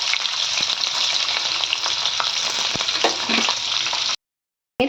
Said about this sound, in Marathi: आता आपण हे पनीरचे पीसेस थोडेसे फ्राय करून घेणार आहोत तूप आपलं गरम झालं आहे आणि यामध्ये पनीरचे पीसेस घालून घेतले